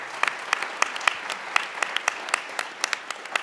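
Applause at a Detroit Public Lighting Authority community meeting in Rosedale Park, a small group clapping in a steady, slightly uneven patter of distinct hand claps heard at moderate distance.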